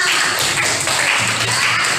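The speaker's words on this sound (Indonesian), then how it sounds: "Tepuk tangan untuk kalian semua" Students in a classroom clap together, a dense, loud burst of applause filling the room continuously with no talking over it.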